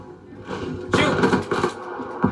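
Gunfire in a hardcore-mode Call of Duty Black Ops match: a few close, punchy bursts of shots stacking over steady in-game background noise, loudest in the middle stretch.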